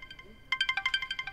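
A phone in The Bus rings with a bright, rapidly repeating electronic trill, starting faintly and then pulsing loud and close in quick regular chirps.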